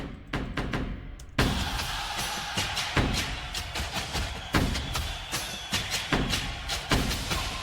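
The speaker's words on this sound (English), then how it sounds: "I added on some extra hits from this BWB Upgrade Hit 3" Punchy drum hits from the BWB Upgrade Hit 3 sample pack, layered into a rage beat, strike in a driving pattern after a sparse opening, loud and full with heavy thumps.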